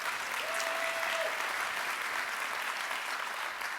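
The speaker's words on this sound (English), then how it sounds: "yes, that is definitely worthy of applause" Audience at a Leadership Louisville luncheon bursting into sustained, even applause for universal pre-K, a dense wash of clapping from a large room with a brief faint tone early on.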